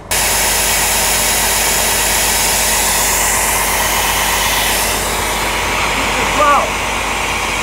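A Mercedes-Benz Axor truck engine runs steadily at close range, a continuous broadband drone with a slight lift near the end.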